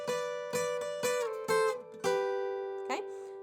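A second guitar part from a song, picked on guitar as short ringing chord stabs and bright single notes in a steady, moderate rhythm, close and alone with no talking.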